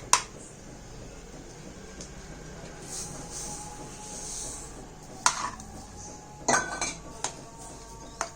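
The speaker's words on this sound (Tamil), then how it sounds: "சுகர் போட்டுட்டு நல்லா மிக்ஸ் பண்ணிடுங்க." Sugar being mixed into rava kesari in a pan, giving a low scraping stir with a few sharp metallic clinks of spoon on pan toward the end; no speech.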